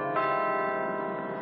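Recorded church bells played out over a Phoenix neighborhood from a cathedral, a sustained ringing tone with layered bell overtones holding steady throughout, fairly loud and alone with no talking.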